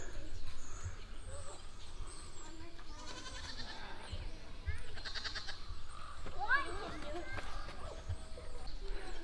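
Goats bleating while running around at an animal preserve in Mount Vernon, Maine, short bleats scattered through outdoor ambience with occasional bird calls and a person speaking nearby.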